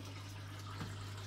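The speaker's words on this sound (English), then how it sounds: "fill this bucket up" Tap water runs steadily into a bucket during an aquarium water change, a close, continuous splashing rush over a low electrical hum.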